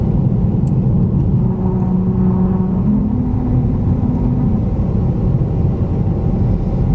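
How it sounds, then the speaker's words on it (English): A car drives at about 45 mph along a musical highway stretch of Route 66, giving a steady loud road rumble with faint tonal hums drifting through the tire noise. "We're coming up on what is supposed to be a musical highway that will allegedly play music if you drive at the correct 45-mile-per-hour speed limit."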